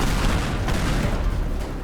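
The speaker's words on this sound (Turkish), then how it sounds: "Araba nasıl patladı?" A car blowing up in the destruction game Teardown gives a dense, rumbling blast that rolls on as a continuous roar of debris, loud and sustained with no clear pause.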